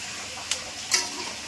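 Onions frying in hot oil for beresta give a steady, bright sizzle, broken by two brief stirring scrapes in the pan.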